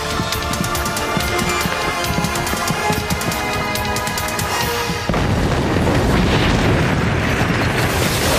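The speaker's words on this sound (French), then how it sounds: "Jan, sortez, il y a une bombe." A bomb explosion in a drama scene: a sustained, loud booming roar that shifts into a broader rumbling blast partway through, alone with no talk.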